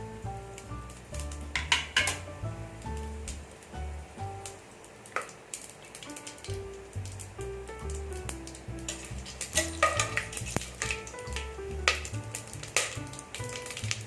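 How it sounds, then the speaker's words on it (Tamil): Whole spices, cinnamon, cloves, cardamom, fennel and bay leaf, crackle and sputter in hot oil and ghee for a vegetable pulao, with a continuous sizzle, scattered pops and occasional stirring clinks, close up. "இதுல போட்டு தாளிச்சுக்கலாம்."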